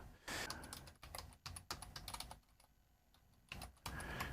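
Password being typed on a computer keyboard during a Dropbox account security login, rapid clicking keystrokes in irregular bursts with short pauses between, close and fairly quiet, no talk.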